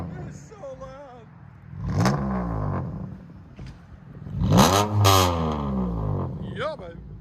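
A 2019 Dodge Charger's 3.6L V6 with true dual straight-pipe exhaust revs hard in two loud, sustained bursts, reaching about 119 decibels, the engine roaring up and falling back, with people talking nearby.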